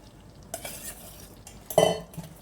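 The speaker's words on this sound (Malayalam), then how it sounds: "ചവരിയിട്ട് നന്നായിട്ട് ഇതിനൊന്ന് ഇളക്കിയെടുക്കാം" Sago is stirred into yam payasam in a pot, with a few scraping strokes and a louder clink of the spoon against the metal near the end.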